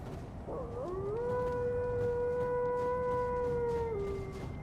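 A wolf howls in a fantasy video game, one long rising and then sustained wail over a steady low ambient bed, with faint overlapping voices of other wolves, no talking.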